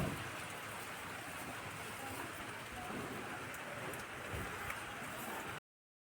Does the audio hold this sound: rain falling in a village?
yes